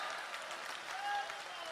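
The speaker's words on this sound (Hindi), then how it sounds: "और तालियां बढ़ाइए" Audience applause at a devotional poetry gathering and initiation event, a steady dense patter of clapping from a crowd heard at moderate distance with no pauses.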